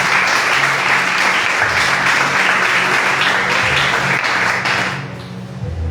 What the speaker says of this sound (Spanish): Grítale ese fuerte aplauso al Señor.